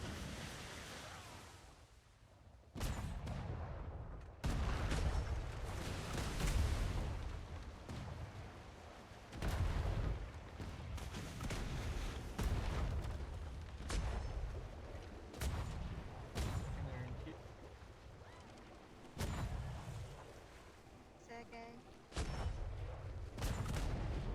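Cannon and gunfire boom in repeated bursts during a ship battle in a naval video game, heavy blasts rising over a steady wash of waves and wind.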